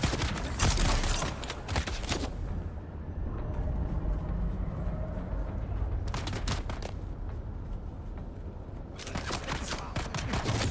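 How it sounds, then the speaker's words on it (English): Heavy gunfire in the video game Dune: Awakening comes in loud, dense bursts at the start, in the middle and at the end, with quieter rumbling mechanical noise between them. "There's so many things shooting me"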